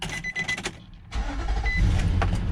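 A 2007 Nissan Armada 4x4 with 138,085 miles being fired up, the engine catching after a brief cranking whir and settling into a loud, steady idle rumble close by.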